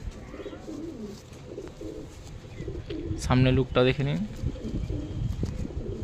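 Pigeons coo in a loud, clear burst at close range, with softer coos scattered throughout over a steady murmur of background noise, while someone talks over them.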